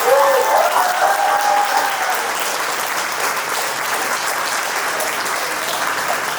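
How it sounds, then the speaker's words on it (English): An audience at a BodyHoliday event applauds track sprinter Julien Alfred, sustained full-room clapping that starts loud and eases slightly, with a brief tonal voice or sound rising over it in the opening seconds. "Can we please give Miss Julien Alfred a big round of applause?"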